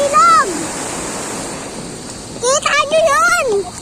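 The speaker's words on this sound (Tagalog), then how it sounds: "Guys, ang ilog!" A river rushing as a steady broadband roar, with excited voices shouting over the water near the start and again toward the end.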